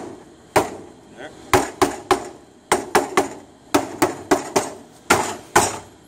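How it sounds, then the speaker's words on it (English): Hammer blows on a cosplay prop fitted with a plexiglass piece: about fourteen sharp, loud strikes in irregular clusters, close up, over a low background hum with no talk. "We'll have to hammer it back out"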